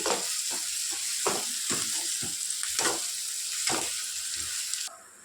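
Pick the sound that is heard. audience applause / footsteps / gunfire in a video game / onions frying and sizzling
onions frying and sizzling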